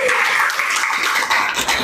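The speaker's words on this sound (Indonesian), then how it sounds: "Kita beri tepuk tangan lagi untuk kelompok Rheochromis niloticus" A classroom audience at a university session claps for a student group, a dense, steady burst of applause that is close and loud throughout.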